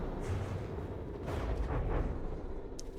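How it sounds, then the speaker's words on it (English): Missile hits striking a ship in the naval combat game From the Depths: a run of dull, rumbling booms and crackling impacts over a constant low roar, with a sharp metallic crack near the end. "We're taking missile hits."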